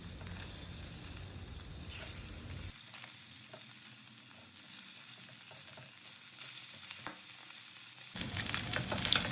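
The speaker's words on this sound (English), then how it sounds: "on medium flame we will fry them until they turn golden brown from both the sides" Singhi catfish fry in hot oil in a karahi over a medium flame, giving a close, steady crackling sizzle that swells louder near the end.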